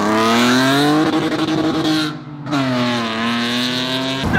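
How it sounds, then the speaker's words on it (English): A drift car's engine revs hard and steadily near the listener, with one brief dip in pitch midway and tire squeal mixed in. "That's a drift car right there."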